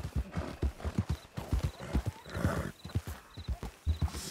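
A horse in Red Dead Redemption 2 trotting with a steady, rhythmic clip-clop of hooves, near and clear, with a brief breathy snort or whinny midway and faint game ambience behind.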